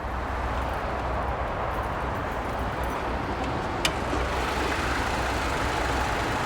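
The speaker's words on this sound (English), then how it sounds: "You have a very clean engine bay, a very quiet engine." A used car's engine idles quietly under the open hood, a steady low hum close by, with one brief click partway through.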